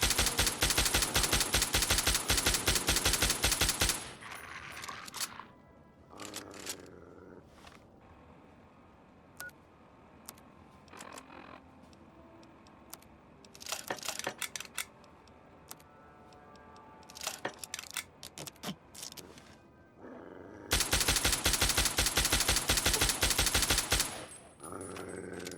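Rapid automatic gunfire from a degrading weapon in Fallout 3 while clearing raiders, with long dense bursts at the start and end and scattered shorter volleys and single shots between, fairly loud.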